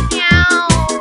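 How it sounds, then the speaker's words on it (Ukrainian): A cat in a children's song cries out in two loud, close, drawn-out meows, one after the other, each with a bright whining tone. "Плаче котик."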